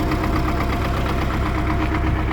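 A 1985 MTZ-80 tractor engine idles on a lot in Dnipro, a loud, steady diesel knock with an even rhythmic chug, close by and alone.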